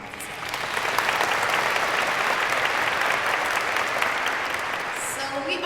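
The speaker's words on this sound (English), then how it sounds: "I want to give them a big round of applause" Sustained audience applause for a guest speaker's team at a 2019 speaking event, a steady dense wash of many hands clapping that holds for several seconds before thinning slightly near the end.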